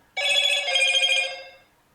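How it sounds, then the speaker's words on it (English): A telephone rings indoors: a single bright, electronic ring about a second and a half long, close and fairly loud, then fading out into quiet. "Bloody phone."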